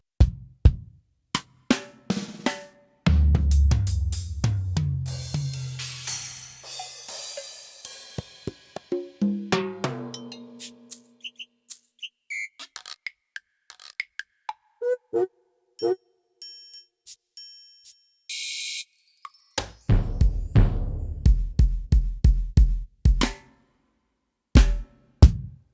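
Varied drum sounds played on a Roland Fantom 06 synthesizer, a run of separate hits with bell-like pings, booming low thumps and short clicks, some isolated with gaps of silence between them and others in brief dense bursts, all without talk.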